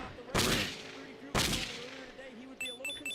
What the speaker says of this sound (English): It is like a firework from Left 4 Dead. It's distraction.